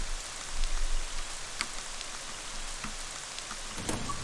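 Rain falling in the video game Ib, a steady soft hiss of drops with faint individual patters, quiet and continuous throughout.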